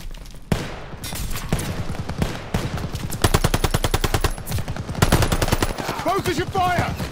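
Machine gun fire in Call of Duty Vanguard, loud rapid bursts of automatic gunfire in repeated strings with single shots between them and battle noise around them.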